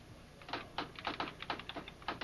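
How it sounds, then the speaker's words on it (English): Keys strike a typewriter in an uneven run of about a dozen crisp, close taps, some bunched together, with no one speaking. "I'll type it on the typewriter."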